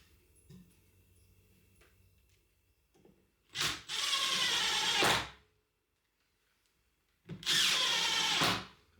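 A power drill screws into wood on a Ryobi hinge jig in two loud, close bursts of whirring and grinding, each over a second long, separated by near silence.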